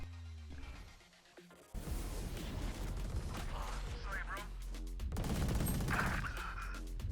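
Gunshots from Valorant, the tactical shooter: bursts of rapid firing with sharp clattering cracks, fairly loud, with game effects and talk over them.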